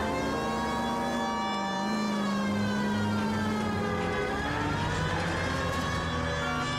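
Police car sirens in the LA Noire video game, several wailing tones rising and falling together over a low engine rumble, steady and fairly loud throughout with no talk.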